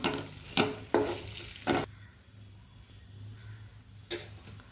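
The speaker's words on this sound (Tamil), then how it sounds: "இது அப்படியே சும்மா இந்த சட்டியோட சூட்லேயே ஒரு பரட்டி விட்டுறலாம்." Turmeric and kuzhambu spice powder being stirred in a hot pan, with a few sharp scraping strokes of a spoon against the metal over a soft background hiss, then quiet and one more scrape near the end.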